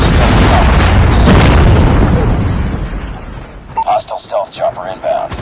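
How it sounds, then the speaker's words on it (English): A predator missile strikes in a multiplayer shooter game with a loud, rumbling explosion that slowly fades, followed by short bursts of a voice. "Hostile predator missile inbound."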